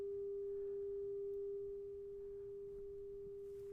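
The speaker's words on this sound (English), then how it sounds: "So here I've created a 400 hertz wave" A steady 400 Hz sine wave tone holds alone at an even pitch throughout, dropping slightly in level about halfway through.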